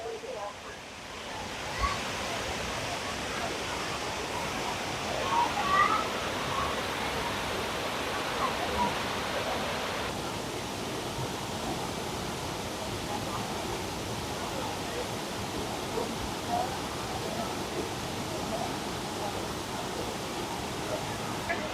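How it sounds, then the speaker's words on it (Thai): Artificial waterfall at a Thai temple, a steady broadband rush of falling water, loud and continuous throughout with a slight drop in brightness midway; a voice talks briefly over it. "ข้างหลังผมก็จะเป็นน้ำตกครับ เป็น ภาพจำลองน้ำตกเนาะ"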